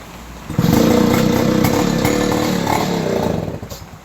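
Engine of a mining machine runs loud and steady for several seconds after a sudden start, a rough mechanical drone close by with no talk over it.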